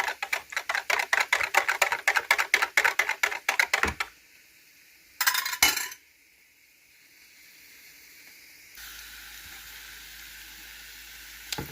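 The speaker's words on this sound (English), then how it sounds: "Just whisking this up for my gravy." A whisk rattles quickly and steadily against a bowl of flour mixture for gravy for about four seconds, followed by a brief scrape and then quiet hiss.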